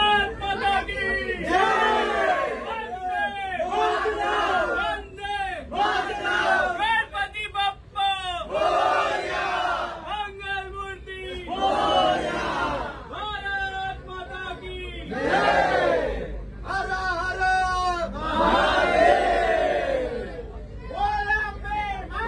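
A large crowd on a station platform chants and cheers together in loud, rhythmic bursts as the Namo Bharat train pulls out. The voices are close and dense, with hubbub filling the gaps between chants.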